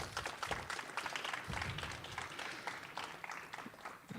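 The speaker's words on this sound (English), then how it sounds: "Let's give them a round of applause," Audience at the Downtown Spokane Library applauds during community school final project presentations, a quiet, distant patter of clapping that holds steady throughout.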